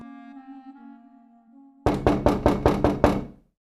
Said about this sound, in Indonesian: Siapa sih gedor-gedor pintu orang kayak mau nagih hutang aja?